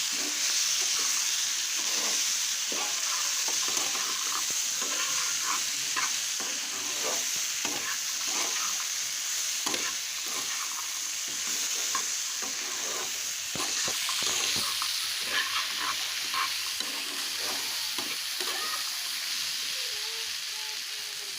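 Chickpeas with cumin powder are stirred in a hot frying pan, a continuous hissing sizzle broken by frequent scraping and tapping of the spoon, close by.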